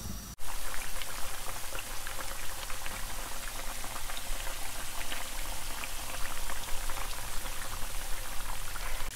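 Potato pieces fry in hot oil to soften them, giving a dense, continuous crackle and bubble, loud and near, running without pause after a brief start.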